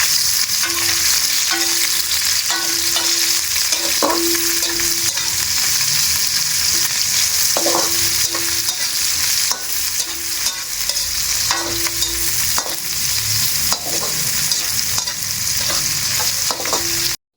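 Onions frying in a pan for a catfish dish: a loud, steady sizzle close by, broken by repeated scraping and stirring knocks from a utensil, with no talking.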